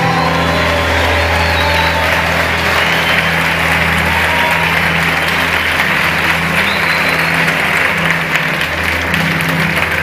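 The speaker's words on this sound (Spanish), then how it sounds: "Vamos, dale un aplauso al Señor." A church congregation claps loudly and continuously during a worship service, with sustained organ or keyboard tones and music carrying beneath the applause.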